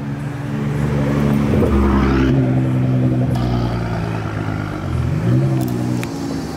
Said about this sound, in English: We got a GTR rolling in